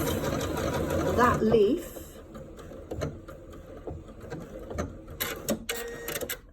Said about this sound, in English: So when I now hit the stay stitch button, it's going to finish off